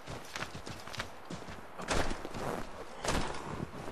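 Horse hooves clip-clop in the video game Assassin's Creed 3, a faint uneven patter of steps with a few heavier thuds, alone and quiet.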